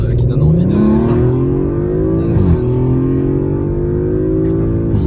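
A car accelerates hard, its engine note climbing steadily and loudly through the gears with a brief dip around the shift, close up and continuous, with people talking over it.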